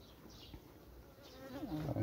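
Honey bees buzzing at an open hive while a frame is handled, a continuous close insect drone with soft wavering pitch that swells a little louder toward the end.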